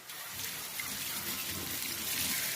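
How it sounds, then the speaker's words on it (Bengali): Boiled cabbage and potatoes are drained, the hot water pouring and splashing out in a continuous close rush, fairly loud and unbroken, with no talking. "এই বাঁধাকপি সেদ্ধ হচ্ছে, আমি এখানে ছেঁকে নেব"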